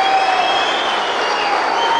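A boxing crowd at a fight night in Rojas applauds the two boxers, Lucas Matthysse and Jorge Barrios, with a loud, steady wash of clapping and crowd noise that stays even throughout.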